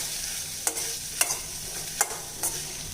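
Grated coconut turned over in a pan for tomato kurma, a low steady sizzle with four distinct scraping strokes of the ladle spaced across the moment.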